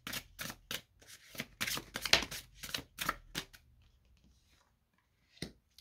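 Tarot cards are shuffled and drawn in a run of crisp, quick snapping and flicking bursts, close and fairly quiet, then a pause before one last card snap.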